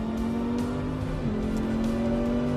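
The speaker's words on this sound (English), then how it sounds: "In a race car or in this splendid Audi R8." Audi R8 race car lapping the Le Mans circuit, a steady loud engine drone heard close from on board with a faint gear-change dip partway through and light tire and wind noise around it.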